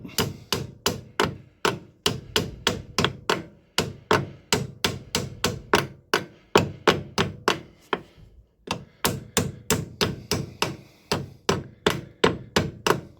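Heavy hammer blows strike the side of a front wheel hub on an Aston Martin DB9, a steady run of loud, sharp metallic whacks with a brief pause midway, close and alone.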